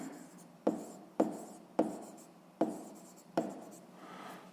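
Close, quiet scratching of a pen on paper while writing out a sixth-grade math problem about a cube, five distinct strokes at a steady rhythm, each starting with a crisp tap and trailing off.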